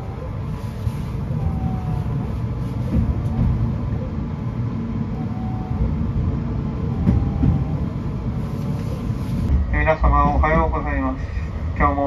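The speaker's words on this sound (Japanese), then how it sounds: "普通列車滝川行きも札幌駅を発車" Local train bound for Takikawa pulling out of Sapporo Station in Hokkaido, a steady low rumble of running gear and motor drone that continues throughout, with a brief whine near the end and a voice talking over it.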